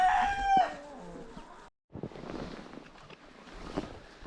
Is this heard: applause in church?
no